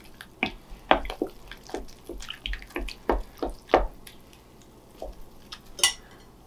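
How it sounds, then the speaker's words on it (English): Metal spoon vigorously stirring sweet bread batter with flour in a bowl, sharp scraping clinks and knocks in an irregular rhythm, close and clear with no talk. "I'm going to use my spoon, and I'm going to vigorously stir this in"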